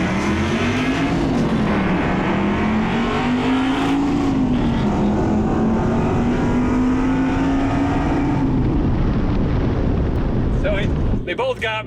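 A Mustang with a 5.0 Coyote engine swap launches hard and accelerates, a loud roaring engine note rising through the run, then fading into clicks and rustle at the end.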